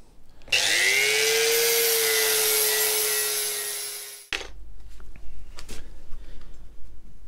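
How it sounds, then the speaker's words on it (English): Angle grinder fitted with a flap disc grinding the face of a brake disc, a loud steady high-pitched whine with a broadband rasp lasting about four seconds, then stopping abruptly and leaving scattered handling noise. "that's the flap disc in place on the grinder"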